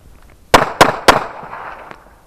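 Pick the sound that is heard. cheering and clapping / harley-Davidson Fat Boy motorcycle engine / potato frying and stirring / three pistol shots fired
three pistol shots fired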